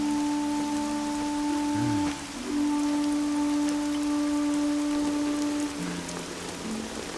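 Heavy rain falls in a steady, dense outdoor wash, with sustained musical tones running over it throughout.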